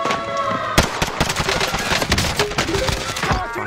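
Rapid, dense gunfire rattles continuously in Call of Duty: Warzone, loud sharp bursts and cracks layered over one another, with a short game-tone beep near the start.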